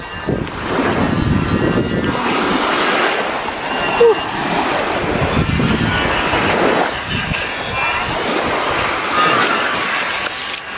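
Sea waves wash continuously against the shore in Montenegro, a steady broadband rush of surf swelling and easing, mixed with gusty wind buffeting the microphone.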